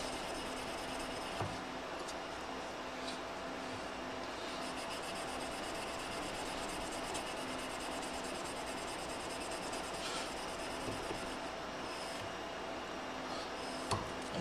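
A steel blade is hand-finished with abrasive, with extra pressure on cross-direction scratches. The rubbing makes a steady, continuous rasping hiss that stays fairly even throughout, with no talking.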